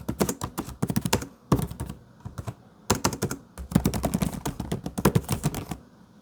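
Quick typing on a Lenovo Flex laptop keyboard, dense runs of close key taps separated by brief pauses, with no one speaking.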